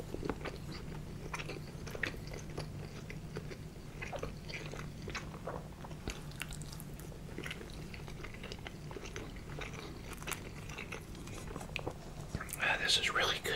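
Soft bites and moist chewing of French toast come up close, with small crunches spread over quiet background hiss and a brief crinkle near the end.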